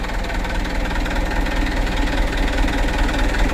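Car engine idling steadily after a tune-up, a continuous mid-low rumble with a faint knocking pulse, close and fairly loud throughout with no talking.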